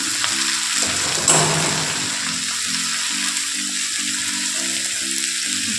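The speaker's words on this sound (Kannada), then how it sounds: "ಇವಾಗ ನಾನು ಹುಳಿಕಾಯಿ ಸೋಸಿ ಇಟ್ಕೊಂಡಿರೋದನ್ನು ಸೇರಿಸ್ಕೊಳ್ತಾ ಇದ್ದೀನಿ." Green beans dropped into a pan of softened frying onions for a Karnataka-style beans palya, a steady broad sizzle with a brief louder burst of hiss early on, then a softer even fry with faint scraping, no voices.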